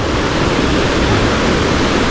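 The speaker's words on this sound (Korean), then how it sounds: "오는 길에 또 멋있는 폭포가 있어서" Steady, dense rushing water roars without a break, a broad full-spectrum wash from a mountain waterfall at Gariwangsan heard close by, with no voices.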